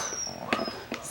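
Coton de Tulear puppies, healthy and a few weeks old, give a couple of brief, soft whimpers and yips against a quiet room background.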